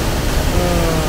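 Steady rushing wash of a waterfall on the Nylqy Qas river, a dense, even roar held at constant loudness throughout, with no voices.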